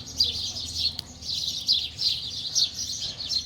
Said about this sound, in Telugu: సో పిచ్చుకల సౌండ్ విన్నాడు గైస్ ఒకసారి